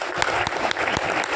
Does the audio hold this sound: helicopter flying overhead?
no